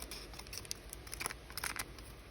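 Scissors snipping through thin strips up close, a few quiet, irregular crisp cuts and rustles at low volume.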